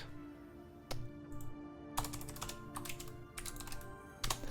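Rapid typing on a computer keyboard clatters in irregular bursts of sharp key clicks, close and fairly loud, with short pauses between flurries and a faint steady hum beneath.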